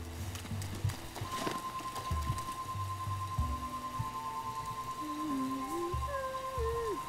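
Steady rainfall patters in the video game Breath of the Wild, a soft continuous hiss under tonal game music and occasional hoof-like clops, with no one speaking.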